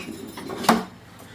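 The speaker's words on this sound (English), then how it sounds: "my spatula and just go around the entire jar" A spatula scrapes around the inside of a sourdough starter jar in a kitchen, one short clinking scrape near the middle standing out above a quiet background.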